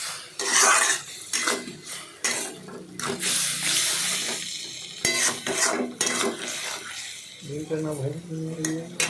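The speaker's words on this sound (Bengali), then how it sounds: "অল্প পরিমাণে জল দেবেন, জল দিয়ে নাড়াচাড়া করবেন।" A pan of food being stirred after sugar and a little water are added, metal utensil clinks and scraping repeating steadily throughout, close and fairly loud, with a voice speaking briefly near the end.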